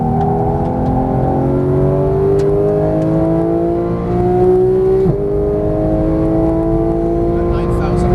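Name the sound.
Porsche 911 GT engine accelerating on race track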